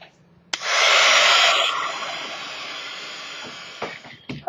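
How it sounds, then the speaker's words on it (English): A heat gun blows hot air onto an art journal page, switching on with a click into a loud, steady airy hiss that softens slightly before clicking off near the end. "heat gun."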